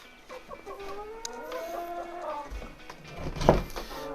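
Chickens on a small Maine farm cluck and call close by, a series of rising, wavering notes followed by sharper clucks, with rustling and a thud in the background.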